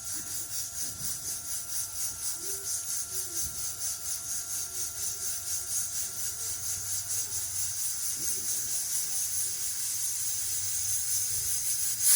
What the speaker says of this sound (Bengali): এবারে মনে হচ্ছে সিটিটা দেবে মনে হচ্ছে এই এই দিচ্ছে সিটি